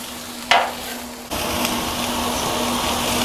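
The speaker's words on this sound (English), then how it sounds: "We'll get these sauteed up and then we'll pull them to the side" Vegetables sizzle and hiss as they sauté on a flat-top Blackstone griddle, starting with a sharp burst when stirred in, then settling into a steady, close, continuous frying crackle with no talking.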